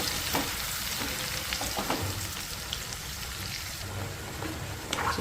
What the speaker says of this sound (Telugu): మొత్తం మిక్స్ చేసి మంచిగా ఫ్రై అవ్వాలి